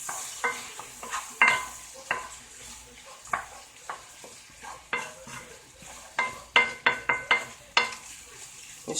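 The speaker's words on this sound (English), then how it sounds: "And just stir." Shrimp and grits with parsley flakes are stirred in a pan: irregular scraping strokes and light clinks of a utensil against the pan come in bursts over a faint background sizzle, with no speech.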